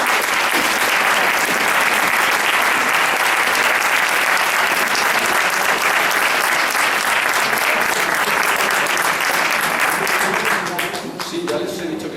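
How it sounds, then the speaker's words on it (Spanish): Sustained applause from a conference audience at a science and spirituality congress, loud and dense throughout, thinning slightly near the end. "de verdad os doy mi aplauso"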